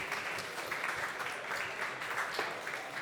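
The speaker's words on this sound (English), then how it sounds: "Please give him a round of applause." Steady applause from a conference audience as a speaker takes the stage, a dense wash of clapping at even loudness throughout with no one speaking.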